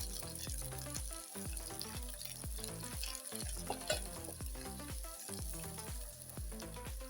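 Onions and dania stems fry in a pan, giving a steady, close sizzle as they are stirred, with repeated scraping strokes of the spoon against the pan and no talking.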